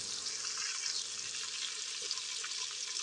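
Turnip and meat for shaljam gosht frying in a pot, giving a steady, close, hissing sizzle that holds even throughout, with no talking.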